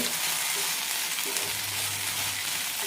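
Pumpkin and okra curry pieces sautéing in a pan, with a constant dense sizzle and frying crackle and no voices.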